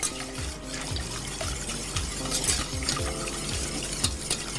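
A utensil scrapes and swirls in figure-eights through thick lemon cream in a saucepan over moderate heat, a quick, repeating rhythm, close and fairly quiet.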